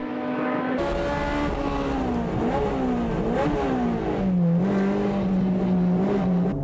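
An MCR tuner race car with a cracked cylinder block is driven hard on track, its engine note rising and falling through repeated revs and shifts, loud and close, with a strained, uneven tone.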